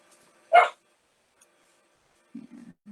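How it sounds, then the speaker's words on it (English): A single sharp dog bark up close, then a pause and a few soft, low whimpering yips trailing off. "I apologize for the barking of my little buddy over there."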